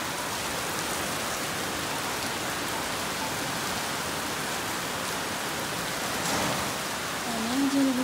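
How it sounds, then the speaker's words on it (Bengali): Heavy rain pours down steadily as a dense, even hiss of drops hitting surfaces, loud and close. It continues unbroken, with a faint tonal sound slipping in near the end. "অনেক জোরে বৃষ্টি হচ্ছে"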